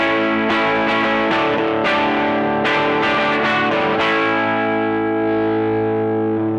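An electric guitar runs through a Bogner Ecstasy Blue overdrive pedal on its higher-gain blue setting, with a string of strummed, distorted chords that ring out thick and sustained, ending in one long held chord.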